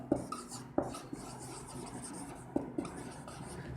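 A pen writing on paper or a board, giving soft scratching strokes with a few sharper taps, close and fairly quiet, with no voice.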